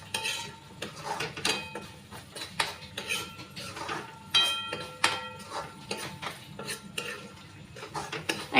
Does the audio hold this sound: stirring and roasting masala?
yes